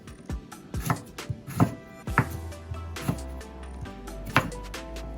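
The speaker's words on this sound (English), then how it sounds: "So I'm just gonna slice my pear into nice thin strips." Knife slicing a pear into thin strips on a cutting board, a series of sharp close taps at an irregular, unhurried pace, with a low hum underneath.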